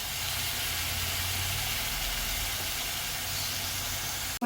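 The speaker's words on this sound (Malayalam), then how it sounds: "സവാള മൂക്കട്ടെ." Sliced onions sauté in a pan for chickpea curry, giving a soft, even sizzling hiss that holds steady throughout before a brief clatter at the very end.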